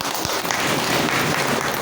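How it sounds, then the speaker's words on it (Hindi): An audience at a business plan presentation breaking into loud, dense applause for new business starters, a continuous wash of many hands clapping close by, filling the whole short stretch. "जोरदार धमाकेदार ताली आपको"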